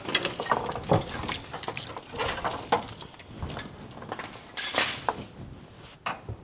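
Series of quick metallic clicks from a small ratchet wrench during work on an engine's carburetor and wiring harness, close and irregular, mixed with clanks of tools and parts, no talking.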